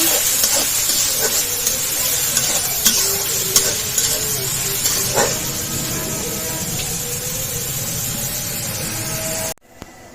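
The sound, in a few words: chopped onion frying and being stirred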